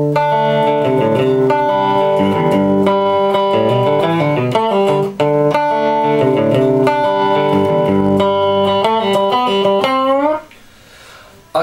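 Electric guitar picks out the Sweet Home Alabama intro pattern, bright arpeggiated notes ringing with effects and light distortion, loud and continuous, one brief gap midway, ending on a sliding note before fading.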